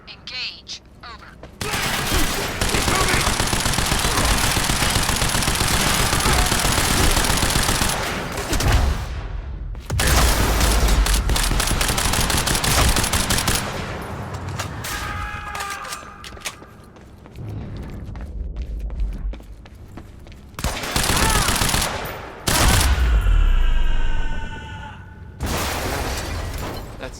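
Gunfire rages in the action video game Quantum Break, with long sustained bursts of automatic fire, booms and shattering impacts, then brief pauses and more volleys, loud and close.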